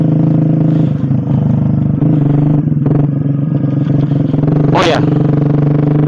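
Suzuki GSX R150 motorcycle fitted with a cheap aftermarket exhaust, idling loud and steady close by with a brief sharp rev near the end, while someone talks over it.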